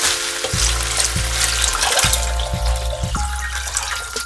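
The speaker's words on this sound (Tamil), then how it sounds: "இப்போ நம்ம ரவைக்கு சொன்ன தேவையான அளவு 4 டம்ளர் தண்ணீரை சேர்த்துக்கலாம்" Water poured into a pan of half-cooked vegetables for rava kichadi, a close, steady splashing stream with a few low knocks of the vessel.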